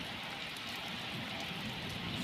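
Rain falling outdoors around a farm where a tractor is being cleaned, a steady soft hiss of drops heard close and continuous, with no voices.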